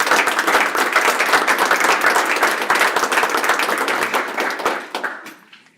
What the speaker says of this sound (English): so can we applaud?